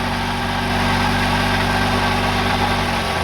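A car engine idles steadily after a flex pipe exhaust replacement, a smooth, constant low hum and rumble heard close up with no voices.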